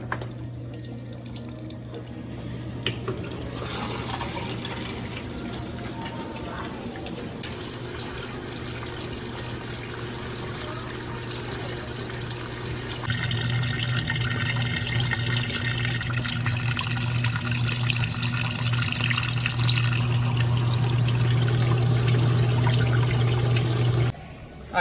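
A Consul 12 kg washing machine fills with water on a jeans cycle, a steady loud rush and trickle running continuously into the drum with a constant hum, no voices.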